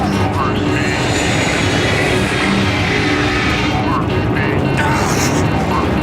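An airliner, Flight 261, plunges in a dive from 31,000 feet, heard as a loud, continuous broadband engine and wind roar with a steady rushing texture that fills the whole stretch, with voices faintly under it.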